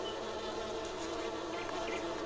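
Bees buzz in Farming Simulator 19 as a steady, even drone that holds without a break, with no talk over it.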